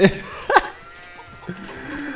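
Sheep bleating in a farm video game where animals are being moved, with two short bleats at the start and middle and a softer one later, heard over faint game background sounds and with no talking.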